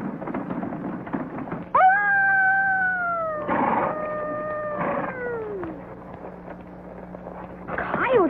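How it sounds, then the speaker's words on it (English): A coyote howls in the daytime in a dry, drought-stricken western setting, a long rising and falling wail that drops away, with shorter yips around it over a low steady background hum. "Coyotes never howl in the daytime."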